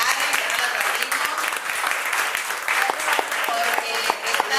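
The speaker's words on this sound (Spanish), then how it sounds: "Un aplauso gigante para Karen" A symposium audience applauds in a sustained round of dense, close clapping, with a few voices mixed in.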